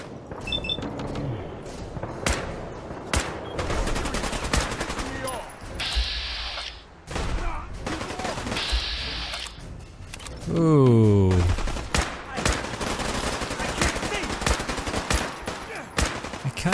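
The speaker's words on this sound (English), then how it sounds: "Who is shooting?" Rapid bursts of gunfire in Fallout 4 crack through a fierce firefight, with fast automatic volleys and single sharp shots. A voice speaks intermittently between the shots.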